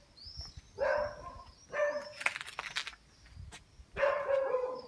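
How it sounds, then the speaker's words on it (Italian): Dogs barking outdoors along a stone-paved lane in a small Italian village, three short bursts of rapid barks separated by quiet pauses, moderately distant, with faint birdsong behind. "Cani."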